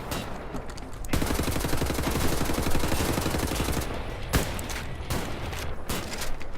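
Sustained rapid automatic gunfire rattles almost without pause in a video game, loud and dense with brief breaks between bursts.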